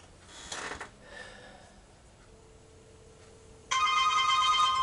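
A phone rings for an incoming call, a bright, steady electronic ringtone that cuts in suddenly near the end and stays loud after a few faint rustles and quiet moments.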